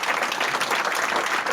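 A crowd applauds during a foundation's 20th anniversary celebration, a dense burst of clapping that stays loud and steady for the whole short stretch.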